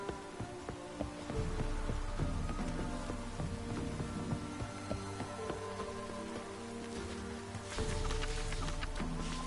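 Light drizzle patters steadily on surfaces in The Witcher 3: Wild Hunt, a soft, even hiss of raindrops under a faint musical background, growing slightly denser near the end.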